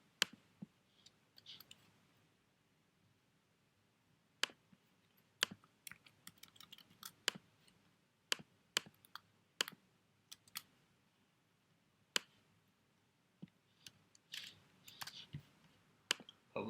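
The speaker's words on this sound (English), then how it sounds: "if you want to just type in some gibberish to get a feel for it" Gibberish typed on a computer keyboard: quiet, close key clicks in irregular bursts and scattered single taps, with pauses between runs.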